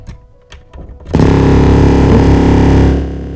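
Synthesizer saw wave tone through a speaker at home: a loud, buzzing, harmonically dense sustained note with strong bass that kicks in after about a second of quieter fiddling and holds steady before easing off near the end.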